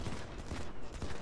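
Rapid gunfire from the mobile shooter Modern Combat 5: Blackout crackles in a short burst of repeated shots, fairly quiet and dense over about a second.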